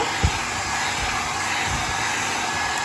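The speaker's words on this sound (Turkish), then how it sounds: "Saç kurutma makinesiyle sürdüğüm kakao yağının her tarafa eşit yayılmasını istiyorum." Hair dryer blowing on cocoa butter inside a chocolate piñata mould, a steady, loud, close whoosh of air running without a break, with no speech.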